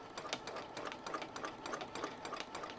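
A domestic sewing machine stitches steadily in free motion quilting on a fabric French press cozy, a quick, even mechanical chatter that sounds close and fairly faint, with no talking.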